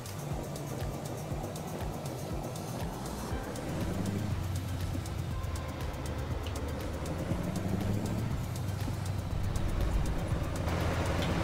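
A Mack MH 600 truck engine in American Truck Simulator pulls away, its steady low rumble rising slightly as the rig builds speed, continuous and fairly loud with no talking.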